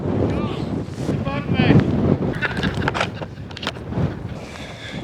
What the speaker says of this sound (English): The wind's picking up and it's pushing the tripod over.